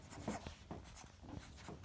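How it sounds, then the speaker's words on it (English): A pen scratches across paper as a name is written on the front of a sheet, giving soft, continuous strokes with short bursts and brief pauses, close and quiet, with no voices. "I am writing my name on the front of my"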